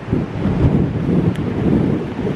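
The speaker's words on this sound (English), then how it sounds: "the wind is blowing super, it almost blew my hat off my head." Strong gusts from Tropical Storm Cristobal at a beach, loud rumbling wind buffeting the microphone continuously, with no voices.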